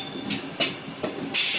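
A Sydney Trains service departs platform 2 at Oatley station during the afternoon peak, a low rumble punctuated by four sharp bursts of high wheel squeal or screech, the last one loudest and sustained.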